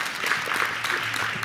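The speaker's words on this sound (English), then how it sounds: "big round of applause for her real quick" Clapping from an audience at an alumni awards event, a brief, dense round of applause filling the room without a break.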